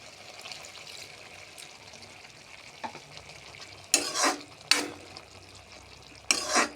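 A little water goes into a pan of pumpkin cooking with stalks and bori, giving quiet stirring and a few sharp hissing bursts of sizzle, near but faint overall.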